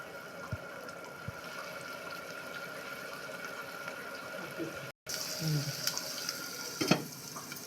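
Onions and turmeric fry in a pan for fish curry, a soft steady sizzle with a few clatters of stirring, briefly cut off midway before resuming louder.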